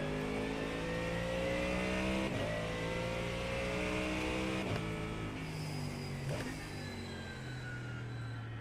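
A GT3 race car engine in a racing video game revs and climbs through gears, pitch rising then dropping sharply at each shift, continuous and fairly faint.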